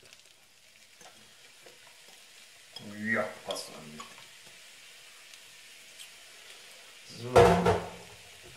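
Vegetables dropped into a hot pan for lentil bolognese, giving a couple of short sizzling bursts and a louder hiss of frying near the end, with someone speaking briefly in between.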